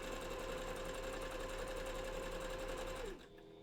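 Close by, a sewing machine hums evenly through a flannel fursuit bandana for about three seconds, its motor whine steady over a low buzz, then winds down and stops.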